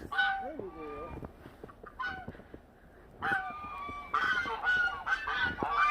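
Geese honk repeatedly at close range on a snowy day, loud nasal calls in irregular bursts that overlap one another, with short quieter gaps between the flurries.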